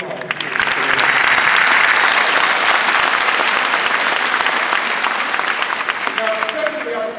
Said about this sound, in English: I just want to give these young people a round of applause